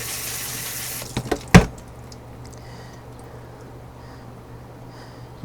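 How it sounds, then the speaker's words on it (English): Running water rinses out an orchid pot for a repotted Masdevallia, a loud steady rush that stops abruptly after about a second and a half, leaving a faint low hum and quiet handling. "Get it all washed out, nice and clean."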